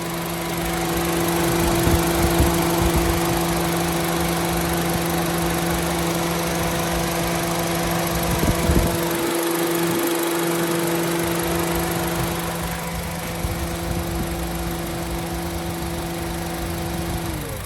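A 2013 Honda City 1.5 i-VTEC engine idling close by, a constant low hum with a faint rattle, running on without voices.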